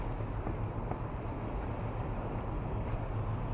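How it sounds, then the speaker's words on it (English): Gusty wind beside the Thames near Tower Bridge in London, a steady loud rumbling buffet with low booming, alone with no voices. "It's windy today."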